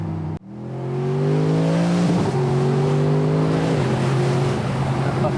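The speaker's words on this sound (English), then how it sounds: "So this is the M159 V8, which is derived from the M156 that was in the C63" Mercedes SLS AMG Roadster's 6.2-litre M159 naturally aspirated V8 roars through a loud rev, pitch climbing steadily then holding high and steady, close and alone after a brief dip at the start.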